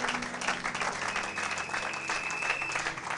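A church congregation claps and applauds in praise of God at a New Year's Eve service, a dense, steady wash of hands that fills the whole moment at an even level.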